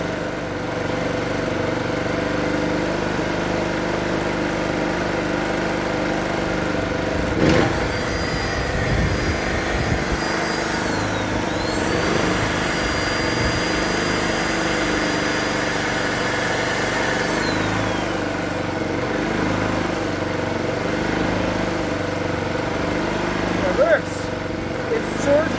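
A free secondhand portable generator runs steadily nearby with a loud, continuous engine drone that surges slightly, a few metallic knocks and a rising whine passing over it, with a voice talking briefly.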